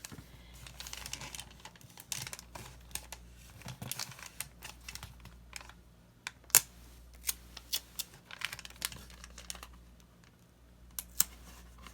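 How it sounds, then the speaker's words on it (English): Freezer paper being folded into a soap mold box: soft, close crinkling and rustling with scattered sharp crackles and taps, quiet and irregular, no voices. "I'm going to follow this piece of paper up the sides of the box and then let it fold down."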